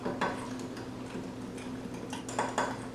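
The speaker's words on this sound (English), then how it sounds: "you're going to whisk it all together" A fork whisks mug cake batter in a mug, with quick, light clinking taps against the ceramic in an uneven back-and-forth rhythm, close and quiet.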